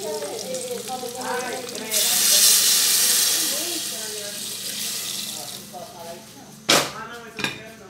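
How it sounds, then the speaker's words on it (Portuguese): Water poured into a pressure cooker in a home kitchen, a steady splashing rush and hiss that swells then tapers, followed by a couple of metallic clanks as the lid goes on, with talking in the background. "vou colocar a água aqui e colocar a pressão"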